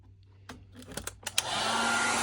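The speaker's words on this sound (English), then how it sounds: "Using the heat gun." A heat gun blasts a steady roar of hot air onto heat shrink tubing over a wire connection during a water cooler repair, starting after a few clicks and handling knocks and holding loud and close.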